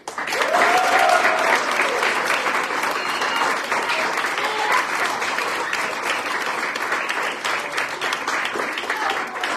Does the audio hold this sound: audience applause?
yes